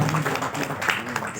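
Audience applause for a speaker at a focus group discussion on food estates and transmigration in Papua: a brief, dense wash of clapping from a seated crowd, steady and fairly close throughout.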